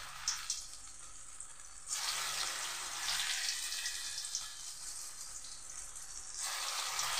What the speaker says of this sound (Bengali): এই দেখুন 4টে করে ভাজছি আমি।